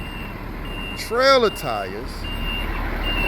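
A truck with a trailer backs up in a CDL student yard skills competition. A steady reversing beep tone sounds under a person talking.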